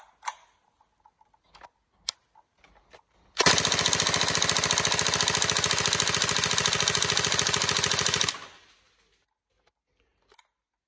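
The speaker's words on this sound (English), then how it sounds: "I'll just put one more mag through on full auto." An airsoft gun fitted with a MOSFET empties a magazine on full auto: one loud, rapid, continuous burst of about five seconds, with a few isolated clicks before and after.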